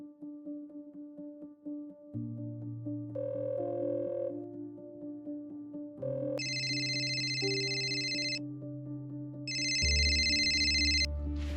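A phone ringtone plays for an incoming call, a melodic electronic tune with repeating tonal phrases that grow louder and brighter over about eleven seconds, with no talking.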